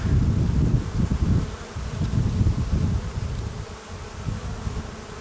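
Dense, steady buzzing of many honey bees close by at an open Ukrainian alpine hive, a constant humming drone that swells and dips slightly, with no voices.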